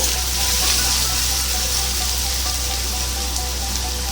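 Water is poured into a cooking pan, a dense, constant rush that stays even and fairly loud for several seconds with no voices.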